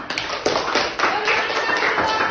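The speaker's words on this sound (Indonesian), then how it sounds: "Tepuk tangan" Students clapping their hands in a fourth-grade classroom, a loose, uneven burst of close, sharp claps from a small group, with light chatter under it.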